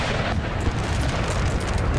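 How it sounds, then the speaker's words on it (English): Artillery bombardment in Napoleon: Total War, including 9-pounder guns, heard as a dense, continuous rumbling roar of blasts and explosions blending together at high volume. "That artillery is being really accurate today."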